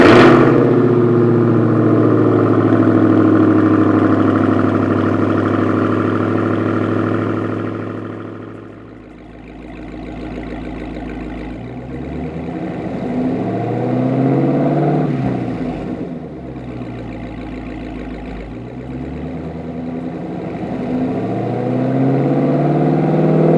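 A Dodge Hellcat Redeye engine runs loud and close, with a deep, steady rumble that settles to a lower idle, then revs up and falls back in several swells.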